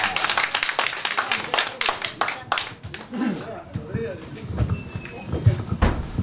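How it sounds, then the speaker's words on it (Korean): Clapping from an audience at a year-end singing club gathering in Daegu, a burst of hand claps that thins out as voices talk over it and some light knocks follow. "자 박수 한번 주세요."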